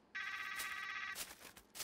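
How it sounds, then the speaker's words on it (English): An electronic telephone ring in the VR game Trover Saves The Universe: a single bright, buzzing ring lasting about a second, fairly loud and alone, followed by softer rustling. "let's answer the phone"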